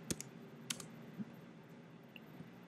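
A few light, scattered keystrokes on a computer keyboard, quiet and close, sounding as a handful of isolated clicks with gaps between them.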